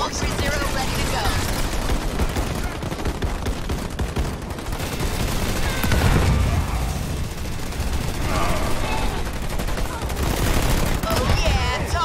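Ground troops exchange gunfire in Halo Wars 2, dense overlapping rifle and machine-gun bursts with booming impacts, loud and continuous under radio-style unit voice lines.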